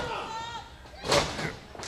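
A wrestler is dropped onto the ring in a live wrestling match, landing with a loud slam and thud about midway through, amid crowd noise and commentary.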